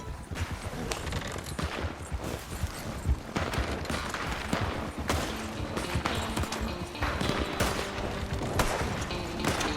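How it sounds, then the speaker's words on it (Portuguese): Gunfire in Red Dead Online, a rapid scatter of shots cracking repeatedly over several seconds amid clattering hooves and game noise, fairly faint in the mix. "começamos a ouvir sons de tiros"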